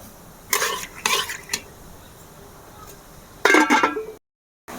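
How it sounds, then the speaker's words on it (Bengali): A lid is set on a pot of chana dal boiling with water, salt and turmeric, heard as a few short metallic clinks and scrapes, then a louder rattling clatter near the end before sudden silence. "সেদ্ধ করার জন্য আমি ঢাকাটা দিয়ে দেব।"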